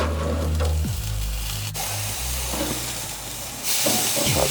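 A rack of pork sizzling as it chars fat side down on a smoker grill, a steady hiss with low crackle beneath, rising to a brighter sizzle near the end, with no talk over it.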